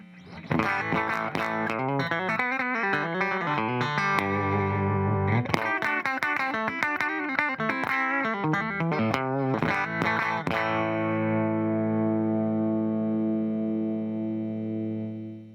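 Distorted electric guitar on the bridge pickup, a Fender American Professional Jazzmaster or Jaguar, with a bright, biting tone plays a riff of chords and single notes, then lets a final chord ring out and sustain.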